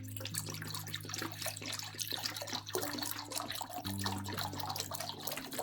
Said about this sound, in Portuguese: vamos começar por pôr 1 litro de água destilada